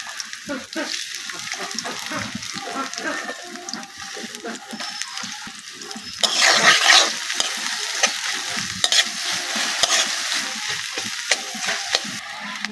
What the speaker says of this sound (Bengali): খাটি সরিষার তেল প্রথমে আমি পেঁয়াজগুলা সুন্দর করে ভাজি করে নিব তেলের মধ্যে